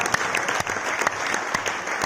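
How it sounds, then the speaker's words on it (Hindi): Brief audience applause at a company event honouring an R&D team that developed a biotechnology and bio-enzyme product for organic fish farming, steady clapping with a few sharper claps standing out. "तो एक बार जोरदार तालियां हमारे R&D टीम के लिए"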